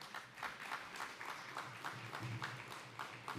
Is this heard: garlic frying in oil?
no